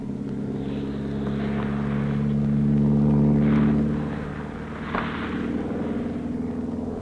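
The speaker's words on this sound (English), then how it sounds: "there's the aircraft that will pick them up at their hotel and land them within yards of their first campsite" A light aircraft engine drones over New Zealand high country near Glenorchy, a steady low rumbling hum that swells louder midway as it passes, then settles back to a constant drone.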